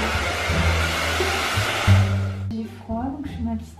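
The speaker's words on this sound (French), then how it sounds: "ma petite séance sèche-cheveux." Hair dryer blowing steadily in an apartment, a loud continuous rushing whoosh that cuts off partway through, with someone talking over and after it.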